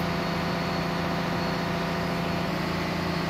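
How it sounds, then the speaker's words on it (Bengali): A loud, constant, deep drone comes from the low-RPM Akasaka engine aboard the Parabat 12 river launch, a Japanese-built powerplant of more than 4,400 horsepower, running smoothly without change throughout at close range. "পারাবাদ 12 লঞ্চে ব্যবহৃত লো আরপিএম আকাশাকা ইঞ্জিনের গভীর ও মসৃণ শব্দ অনেক যাত্রীর কাছে বিশেষ আকর্ষণীয়।"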